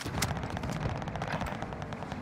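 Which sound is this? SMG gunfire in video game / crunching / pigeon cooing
SMG gunfire in video game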